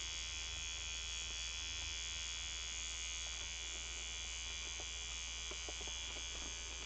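An electric stitch ripper buzzes steadily as it pulls stitches out of a quilt block, a constant thin motorized whine with faint clicks of the blade catching threads, quiet and close.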